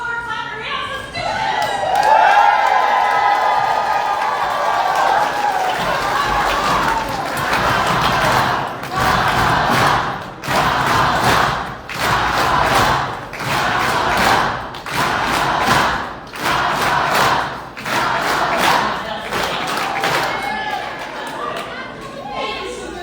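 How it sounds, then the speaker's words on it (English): Rally crowd on its feet during a campaign event in Cochise County, clapping in a strong rhythmic beat with cheering and chatter, loud and sustained, punctuated by sharp regular claps. "clap your hands"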